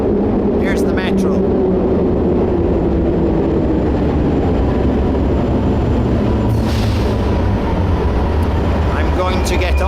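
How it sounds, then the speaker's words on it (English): Metro train pulling into a station platform, a steady loud low rumble and rolling roar throughout with brief higher squeals and a hiss, close by, with some voices mixed in. "Here's the metro."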